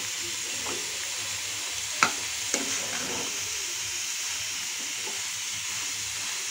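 Spine gourd fries in a pan with roasted grated coconut being stirred in: a steady sizzle and hiss runs throughout, broken by a couple of sharp spatula scrapes and knocks against the pan.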